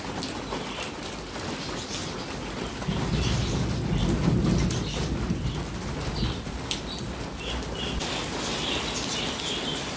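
Heavy rain pours outside, a dense, constant hiss that swells briefly louder midway with a low rumble, steady and unbroken, with no talking.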